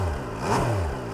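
A 798cc triple-engine sport touring motorcycle with a triple exit exhaust gives a single quick rev, the engine note rising and falling back within a second, loud and close.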